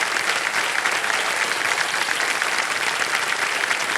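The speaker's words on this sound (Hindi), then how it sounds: "तालियां बजती ना।" Studio audience applause on the Hindi quiz show Kaun Banega Crorepati, a dense, steady wash of clapping that holds at an even loud level throughout, with no talk over it.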